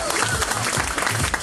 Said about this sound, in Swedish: Ge en applåd till Regin